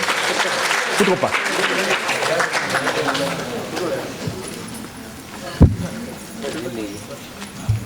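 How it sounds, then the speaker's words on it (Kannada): An audience at a Kannada Medium award ceremony claps for the award recipients, dense sustained applause that thins out over several seconds, with voices talking over it and a sharp thump midway. "ಬಂಧುಗಳು ಚಪ್ಪಾಳೆಯ ಮೂಲಕ ಇವರಿಗೆ"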